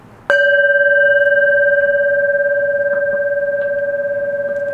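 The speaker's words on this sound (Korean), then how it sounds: "자 우리도 종을 한번 칩시다." A struck temple bell rings out once with a sharp attack, then a long, steady, sustained tone that slowly fades. It is loud and close, with no voices over it.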